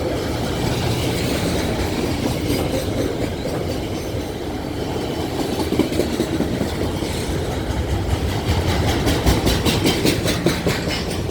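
An Alaska Railroad freight train bound for Fairbanks rolls past at Wasilla with a steady heavy rumble and a rhythmic clickety-clack of wagon wheels, loud and close throughout, with faint squeals and no talk.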